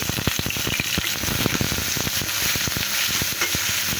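Loud, steady sizzling of dried fish frying in oil with fried onion and garlic, with crackles and pops throughout and occasional stirring, close by.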